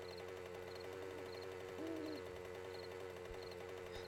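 Owl-like hooting from a bird enemy in the survival game 7 Days To Die, a short hoot standing out over a steady game soundscape and music.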